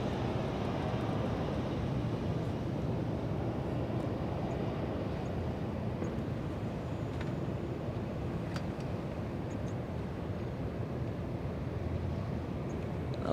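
A Boeing 737 arrives and lands at Los Angeles International Airport, its jet engines giving a steady, broad roar that holds without break at a moderate distance.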